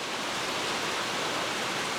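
Cold water rushes steadily through a French drain in a continuous hissing flow, close and fairly loud, with no other sounds.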